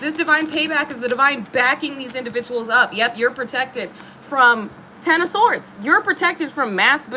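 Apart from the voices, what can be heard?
None of the usual background noises is heard.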